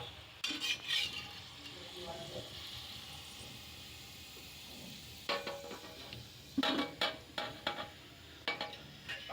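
Bajra flour fulwadi fry in hot oil with a soft, steady sizzle, while several sharp metallic clinks and scrapes of a utensil against the pan sound close by.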